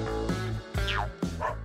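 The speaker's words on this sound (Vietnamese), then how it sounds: "Ồ, một bé cún." A puppy gives several short, yappy barks and whimpers in a busy indoor shop, with harmonic yelps rising and falling between bursts over steady background music.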